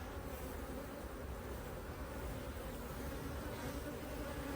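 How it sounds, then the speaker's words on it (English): A dense, steady buzz of many honey bees in a hive close by, continuous and even throughout with no voices. "Then loads of bees all dangling underneath."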